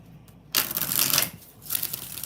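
Oracle cards being shuffled by hand, a burst of papery riffling and rustling that starts abruptly, eases briefly, then picks up again close by, with no talk.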